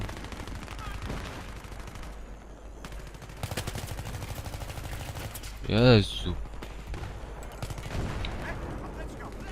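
Gunfire in the video game Battlefield 3, bursts of shots and a louder blast midway over a background of game noise, with someone talking now and then.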